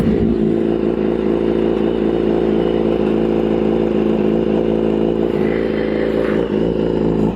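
A BMW S1000 motorcycle engine runs after its oil drain plug came out mid-pull, a loud, close, steady mechanical drone with harsh clattering overtones throughout.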